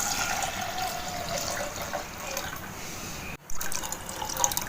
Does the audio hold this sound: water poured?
yes